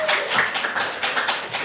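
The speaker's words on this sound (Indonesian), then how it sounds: "Boleh tepuk tangan." Brief audience clapping in a school literacy gathering, a short burst of scattered, uneven claps from a small group, fairly close.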